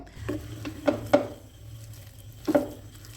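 Olive pickle being mixed by hand in a bowl with chili, turmeric and black salt: a few separate spoon scrapes and clinks, close and fairly soft, with quiet gaps between them.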